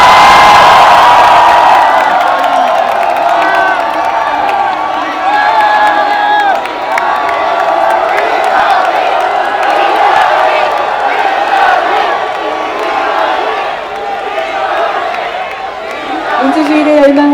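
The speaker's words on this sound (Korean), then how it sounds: "과학진보당 이정희 대표님을 큰 박수로 모시겠습니다" A large crowd at an outdoor candlelight political rally cheers, whoops and applauds loudly and continuously, with shouts rising above the steady roar.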